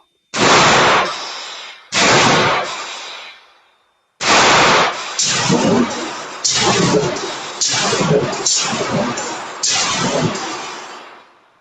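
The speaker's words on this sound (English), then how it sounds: "That was 5 rounds of Panzer Defense 2 3/4 inch 1-ounce slugs, going 1650 feet per second." Panzer Arms EG200 shotgun firing 2 3/4 inch Panzer Defense 1-ounce slugs outdoors at a range, with loud sharp booms that ring out: two spaced shots, then a quicker string of several more, with no talk.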